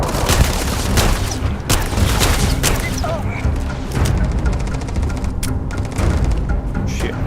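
Rapid bursts of laser pistol fire in a first-person shooter video game: repeated sharp, punchy shots spaced irregularly over continuous battle noise.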